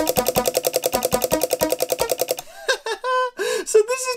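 An electromechanical counter sends triggers to several keyboards that play a melody as fast, evenly pulsed tones for about two seconds. A person then talks briefly.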